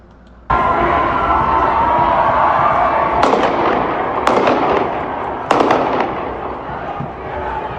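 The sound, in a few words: gunshots in a protest video filmed from a balcony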